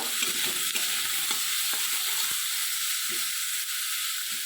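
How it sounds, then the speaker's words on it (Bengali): Eggplant pieces fry in a pan with a constant, fairly close sizzle and occasional soft stirring knocks, with no voices. "ভেজে নেব, বেগুনগুলো আমি দিয়ে দিলাম।"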